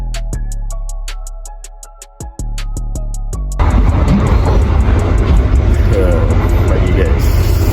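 A passenger train near Cikarang, Bekasi, Indonesia rumbles along steadily with a tonal horn or whine at first, then a loud broad roar of running on rails takes over.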